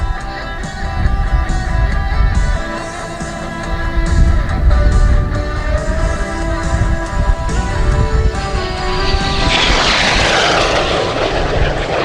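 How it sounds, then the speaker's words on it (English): A MiG-17 Fresco jet fighter flying a demonstration at the 2024 Vero Beach Air Show: a loud, continuous engine roar that swells into a harsher rushing blast near the end, with no talk. "this demonstration of the MiG-17 Fresco"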